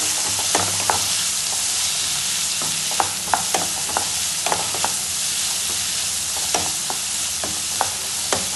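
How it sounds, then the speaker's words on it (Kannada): Sweet corn and beans being stirred in a pan for soup, with a steady low sizzle beneath repeated sharp scrapes and clicks of the spoon at irregular intervals, close and fairly loud, with no talking. "ಇವಾಗ ಮಿಕ್ಸ್ ಮಾಡ್ಕೊತಾ ಇದ್ದೀನಿ"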